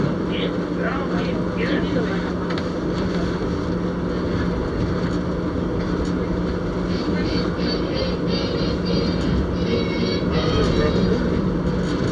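Branson Scenic Railway train crossing the Walnut Creek Trestle, heard from inside a dome car as a loud, continuous rolling rumble with a faint steady hum throughout.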